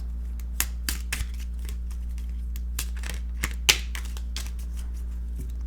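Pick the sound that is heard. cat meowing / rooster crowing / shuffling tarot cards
shuffling tarot cards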